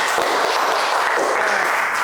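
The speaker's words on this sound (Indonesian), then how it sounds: "Boleh tepuk tangan untuk Ananda Farel." Loud, steady applause from a classroom of students, dense continuous clapping that fills the whole moment and then stops abruptly, with no talk over it.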